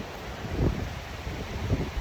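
Wind blows outdoors, buffeting the microphone with a low rumbling roar that gusts up and down through the short stretch, with no voices.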